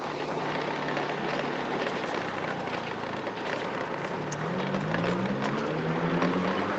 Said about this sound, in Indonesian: Hujan kayaknya di sana ya.